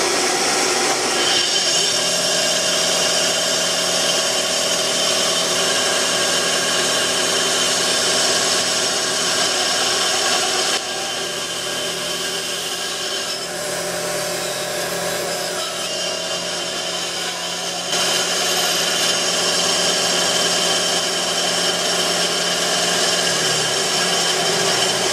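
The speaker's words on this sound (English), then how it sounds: "I'm gonna try to do it with this bandsaw." A bandsaw cuts through 50 BMG brass casings for bottle openers, a loud steady whining drone that runs without a break, dipping a little in level midway as the cut goes on.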